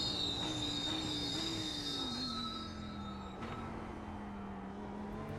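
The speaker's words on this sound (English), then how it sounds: "dynamic brake audio has been added to the GT3, GT4, GTE, and the touring cars" Cold brakes on a GT race car in the iRacing simulator squeal in a sustained, wavering high whine over a low engine drone, fairly quiet and steady for several seconds with no speech.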